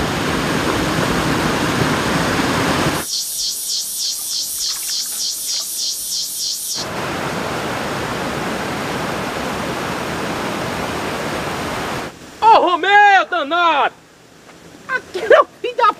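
A swollen river rushes steadily after rain, a broad, loud wash of flowing water that runs throughout and briefly gives way to a higher, filtered stretch. Near the end a person's voice cuts in over it.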